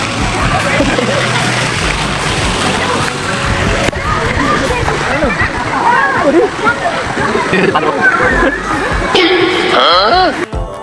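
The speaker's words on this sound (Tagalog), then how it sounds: "Tubig naman ang paglaro natin." Water splashing and sloshing during play in an outdoor setting, loud and continuous, with irregular surges and splashes, and voices talking over much of it.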